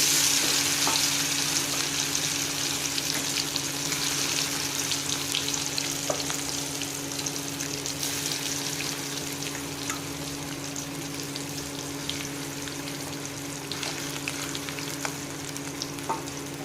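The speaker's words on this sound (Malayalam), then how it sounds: "വെളിച്ചെണ്ണ ചൂടായി വരുമ്പോൾ ഈ സോയ ഇതിലിട്ട് ഫ്രൈ ചെയ്തെടുക്കണം." Soya chunks frying in hot coconut oil with dried red chillies in a pan, a continuous close sizzle and crackle with occasional sharper pops and stirring scrapes, steady for the whole stretch with no talking.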